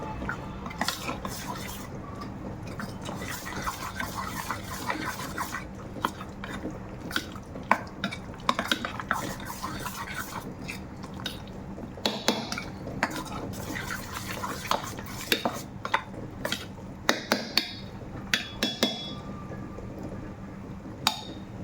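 A spoon stirs and mixes a grated carrot, onion and fresh pea mixture in a bowl, making a long run of soft scrapes and irregular clinks, moderately quiet and close, with no speech.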